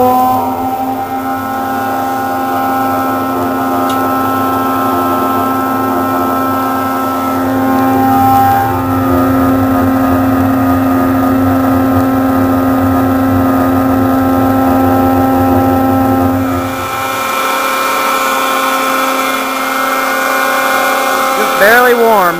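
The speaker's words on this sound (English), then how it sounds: "Go ahead and turn on that blower, Elizabeth." A blower feeds air into a woodgas flare, holding a steady, loud mechanical hum with a faint whine for most of the stretch, then easing lower near the end.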